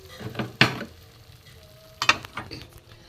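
Spoon stirring dry banana flower curry (mochar ghonto) in a pan on a switched-off gas stove, two short scraping bursts with faint sizzle, close and alone.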